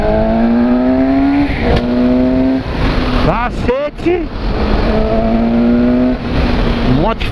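A Suzuki GSX-S 750 motorcycle accelerates hard through São Paulo traffic, its engine note climbing repeatedly through the gears, loud and close, with a shouted exclamation partway through.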